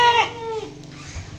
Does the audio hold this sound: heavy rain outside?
no